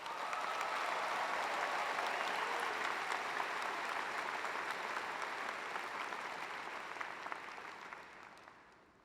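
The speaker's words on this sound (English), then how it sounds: "Give yourself a big round of applause" Sustained, dense applause from a large commencement crowd honoring graduates at Moody College, loud and steady for most of the stretch before gradually thinning and fading near the end.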